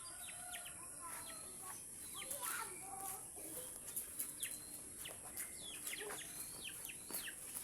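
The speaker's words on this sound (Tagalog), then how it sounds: "Akong manok, mahadlok!" Backyard chickens cluck and chirp in short, scattered calls at a moderate distance over a steady outdoor hiss, with a few faint voices nearby.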